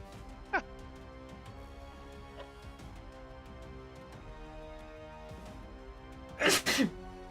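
A single sharp sneeze bursts out near the end, following a quieter stretch with a few faint, brief sounds and a low steady hum in the background.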